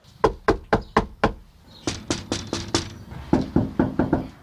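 Knuckles rap on a door in quick, steady runs of sharp knocks, several bursts in a row, close and loud with no voices.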